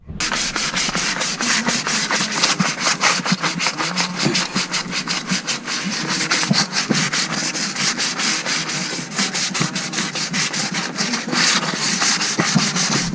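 Coarse sandpaper rubbing paint off the metal engine bay of a Nissan S15, a steady close-up scratchy rasp of repeated strokes running continuously with no talking.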